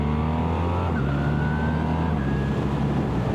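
BMW R1300R motorcycle accelerating uphill with a quick shifter, the engine note climbing steadily, then dropping abruptly at each of two quick, clutchless upshifts before rising again, loud and close.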